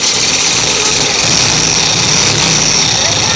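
A rebuilt 1600 cc Volkswagen Beetle engine runs at its first start, a loud, rough, close-up clatter that holds steady throughout.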